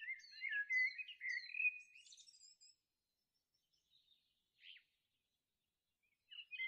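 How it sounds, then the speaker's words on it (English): Bali starling calls: a run of clear, repeated whistled chirps, fairly loud at first, then scattered fainter notes with quiet gaps, and a brief final burst. "The Bali Starling is a truly amazing and fascinating bird species"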